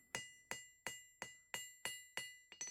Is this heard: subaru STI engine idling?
no